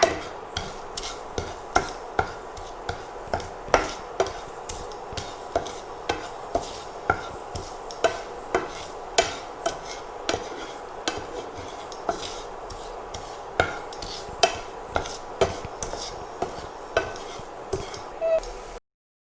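A spoon stirs podi sundal, chickpeas tossed with spice powder and grated coconut, in a pan, giving a steady series of scraping, rasping strokes at a regular rhythm, close and fairly quiet, with no one talking.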